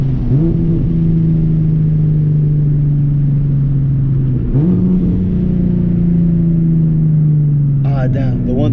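A turbo Nissan 370Z Nismo engine drones loud and steady at high revs during a launch, dipping briefly before climbing again, with a short burst of higher-pitched noise near the end.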